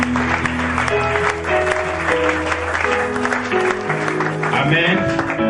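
A church congregation at a worship service in Matadi claps in sustained applause, with loud, dense clapping throughout, mixed with voices and music-like tones.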